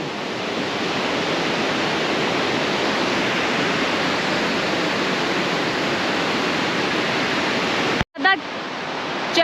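Water rushes steadily down a channel near a trout hatchery, a dense continuous roar close by that cuts off abruptly near the end.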